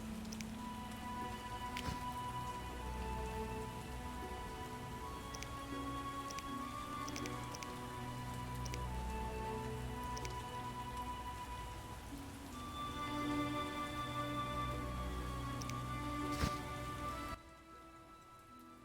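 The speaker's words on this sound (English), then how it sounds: "Oh, good. It's raining." Steady rain falls in the video game The Witcher, a continuous pattering hiss with soft droplet ticks that runs evenly throughout, close and moderately loud, then drops away abruptly near the end.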